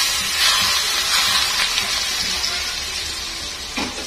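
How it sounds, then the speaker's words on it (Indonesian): Hot oil poured over finely ground chili sambal hisses and sizzles loudly and continuously, a close, bright crackling fry that slowly fades, with no talking. "sekarang aku akan siram dengan minyak panas"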